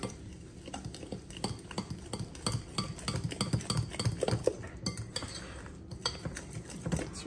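White sugar is mixed in a bowl for a cream cheese stuffed banana bread, with a steady run of quick scraping and clinking strokes of a utensil against the bowl, close up and without speech.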